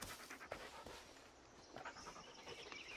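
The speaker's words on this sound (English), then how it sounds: "What are you doing, dog?" A dog panting in the Blair Witch horror video game, quick rhythmic breaths repeating steadily, faint and close, over a dim ambient game background.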